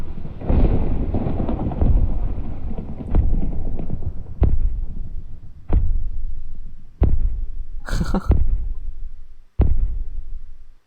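A Minecraft thunderstorm during a hurricane: loud, heavy rumbling booms repeat in a steady pulsing rhythm, each swelling and then cut short, with a brief high crackle partway through.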